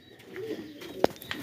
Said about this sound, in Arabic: بصوا بقى هنكلف الحمام مع بعض ونبص على الانواع اللي هي الشعب دي.